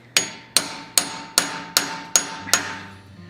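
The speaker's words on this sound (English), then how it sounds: "I'm coming in with a hot chisel well above where I want that brow to be" Hammer blows striking a hot chisel while forging a steel Viking head, seven sharp, ringing metallic strikes at an even, unhurried rhythm, close and loud with short decays between hits.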